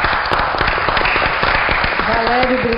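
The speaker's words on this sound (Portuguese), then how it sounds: "Vamos aplaudi-la!" Audience applause at a municipal ceremony honouring a mayor, dense steady clapping throughout the clip with voices talking over it.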